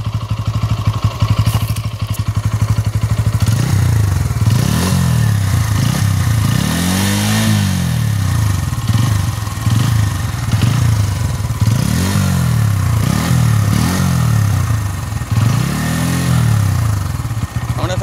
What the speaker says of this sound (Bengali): এখন আমরা শুনবো ইঞ্জিন নয়েজ